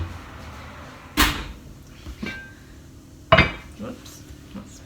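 A hot cast iron pot holding baked sourdough comes out of the oven: two loud metallic clanks separated by a pause, with softer knocks and scrapes between, heard close up.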